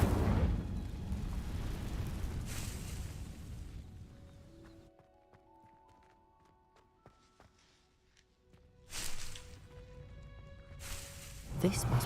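An Incendio fire spell in Hogwarts Legacy, heard as a loud whooshing burst that dies into quiet chiming tones, followed by further fiery bursts, with voices talking alongside.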